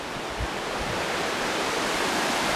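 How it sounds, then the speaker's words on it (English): River water flowing past a walled stretch near a mound in Bedford Reservation, Ohio, a loud, continuous broadband rush filling the whole clip. "There's the river."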